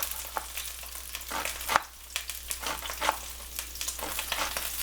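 Meat sizzles and fries in a pan as it browns, with a steady crackle and occasional stirring scrapes, close and alone.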